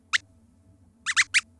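A handful of short squeaks: one near the start, then three quick ones in a row toward the end, sharp and close over a faint low background hum.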